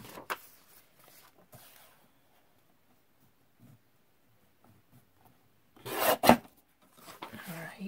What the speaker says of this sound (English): So we are just going to trim it off right here.